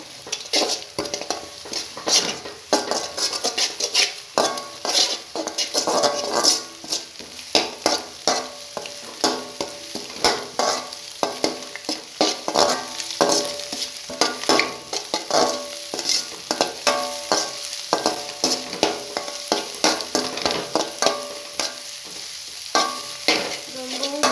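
Egg and vegetables for keerai biryani sizzle loudly in a pan while a utensil stirs and scrapes them in a quick, steady rhythm, close and continuous throughout.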